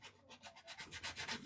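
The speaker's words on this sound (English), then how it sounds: "I'm sanding down." Pencil sanded by hand, a quick close series of rhythmic rasping strokes, about a dozen back-and-forth rubs steadily growing louder, with no talk.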